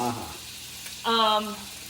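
Duck confit frying in a pan, a soft continuous sizzle with a brief louder burst, close and fairly quiet.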